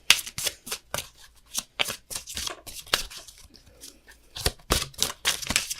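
Tarot cards being shuffled by hand during a reading, a run of crisp riffling and flicking bursts with short pauses between them, close and fairly loud.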